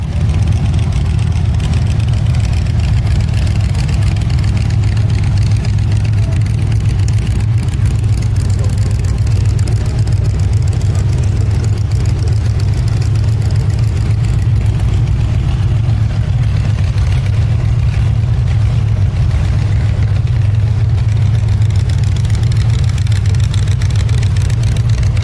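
A Barris custom car engine idles steadily at a roadster show with a deep, low rumble throughout, loud and close, with no clear break in the running sound.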